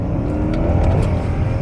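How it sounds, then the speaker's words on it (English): A Genesis car accelerates at full throttle, its engine a loud, close, continuous roar with rising drone and brief dips as gears change quickly. "So I'm just going to floor it. And I'm going to show you how the car shifts."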